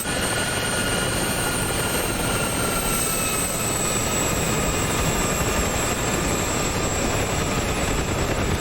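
A helicopter armed with AS-12 missiles flies in the DCS combat flight simulator over a 1982 Falklands War scenario, producing a loud, constant rotor and turbine drone with a faint high whine and no talking.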